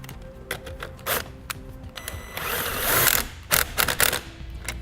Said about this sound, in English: I'm going to replace my nut and tighten it back up.